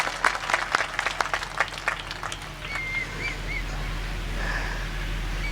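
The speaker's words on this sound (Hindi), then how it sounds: "उनके लिए तालियां बजे।" Audience applause at a mushaira poetry evening: a dense burst of clapping that fades after a few seconds into a quiet, hall-like murmur.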